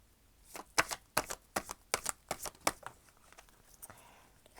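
Oracle cards shuffle in quick riffled bursts, a run of about a dozen close crisp flutters that trail off into quiet.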